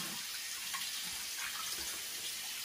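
Lukewarm tap water runs steadily from a faucet into a sink for face washing, a soft continuous hiss and splash at close range with no talking.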